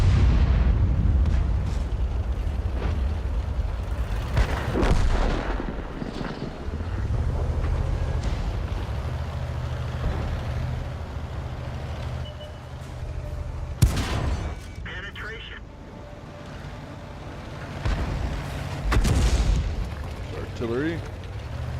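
Artillery shells explode in a World of Tanks match: a few heavy, sharp booms land over a steady low rumble of tank engines and wind-like noise, fairly loud throughout.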